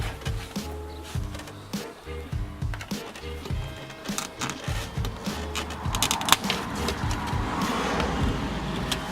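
Plastic clips on the front end of a BMW 335i are pried back, giving close irregular creaks, scrapes and clicks over a low background hum, with a louder snap near the end.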